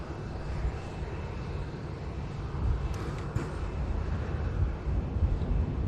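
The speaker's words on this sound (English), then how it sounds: "here's the Dreamliner for Cancun, just taxiing past behind the 380 on stand 12" A Boeing Dreamliner taxiing at Manchester Airport, a steady low jet-engine rumble with broadband roar that swells slightly over the span, heard from a distance with wind noise and no talk.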